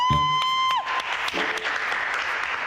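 An audience applauding at an art exhibition, a brief patter of clapping that follows a short sung or electronic tone, with light crowd noise behind it.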